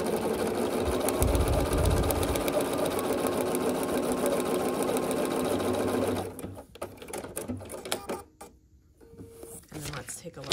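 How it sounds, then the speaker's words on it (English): A sewing machine stitching a foundation paper pieced log cabin quilt block, a steady fast mechanical whirr running close and loud for about six seconds before stopping, followed by quieter handling noises. "we're gonna stitch here."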